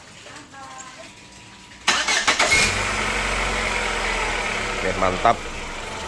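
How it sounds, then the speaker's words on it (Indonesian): A petrol Chevrolet Captiva engine cranks and catches at about two seconds, then settles into a steady, close idle; a brief rev bump follows near the end, with a short spoken remark over it. "Nah sekarang kita nyalakan mesinnya. Coba starter bos."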